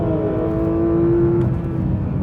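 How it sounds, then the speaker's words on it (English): Porsche 911 GT3 (992) engine powering out of a fourth-gear corner on a track, a loud sustained drone with a steady rising tone that holds for over a second before easing, close and continuous with no talk. "You can get on the brakes, look to power out early, just settle that rear end."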